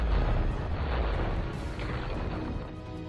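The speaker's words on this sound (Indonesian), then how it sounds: "Mereka mulai melancarkan tembakan mortir." German mortar fire in a war film: a deep, rumbling blast fills the whole stretch, loud and sustained, with a rolling low boom and debris-like crackle fading slightly toward the end.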